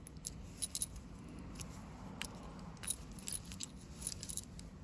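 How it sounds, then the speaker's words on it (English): A small bunch of keys on a set of padlocks jangles, with light metallic clinks and scattered jingles over a steady low murmur of outdoor background noise. "Little set of padlocks. It's keys."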